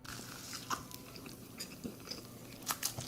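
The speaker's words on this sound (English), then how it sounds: "So let's give it an initial bite." Someone bites into a vegan burger sandwich from a burger van, with a few soft crunches and chewing sounds close by and fairly quiet, and no talking.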